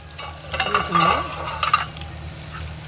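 Chicken frying in a pan for biryani sizzles steadily while a utensil scrapes and stirs in a few bursts through the middle, close and moderately loud, with no talking.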